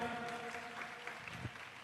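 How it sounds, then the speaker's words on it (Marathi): An audience at a Christian church gathering claps loudly and steadily, a dense wash of applause over a faint musical hum, continuous and close throughout. "जोरदार टाळी वाजूया"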